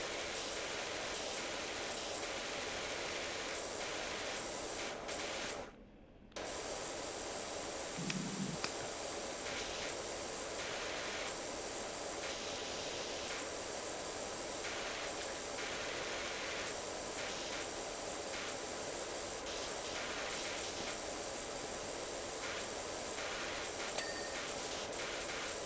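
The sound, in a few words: pressure washer spraying in PowerWash Simulator video game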